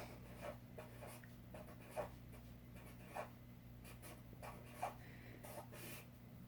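A pencil scratches on paper, setting up a long division problem, with soft strokes and a few sharper taps at irregular intervals over a steady low hum.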